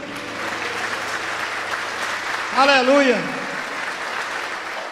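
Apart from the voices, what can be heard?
church congregation applauding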